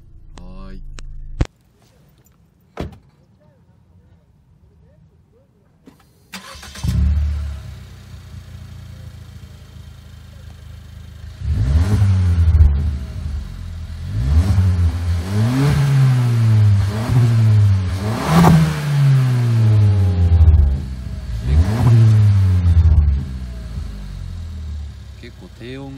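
After a few sharp clicks and quiet, a Suzuki Swift Sport ZC33S engine starts and revs repeatedly through a deep, booming aftermarket sports muffler, rising and falling several times close by.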